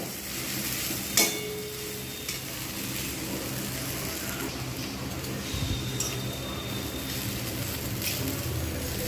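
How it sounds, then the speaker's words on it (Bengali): Egg chow mein stirred and tossed in a pan with vinegar and soy sauce, giving a continuous loud sizzle with scraping and clattering utensil sounds throughout and a sharp knock near the start. "ভালো করে কিন্তু আমি এরকমভাবে নাড়তে থাকবো"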